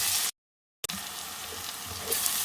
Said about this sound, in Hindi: ये लहसुन, अदरक और ये जो साबुत गरम मसाला जात है, ये तमाम के तमाम डाल देंगे और इनको 2-3 मिनट के लिए भूनेंगे